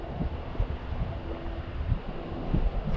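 Outdoors, gusty wind buffets the microphone with a low, uneven rumble and roar. It blows steadily across the whole stretch, and nobody speaks.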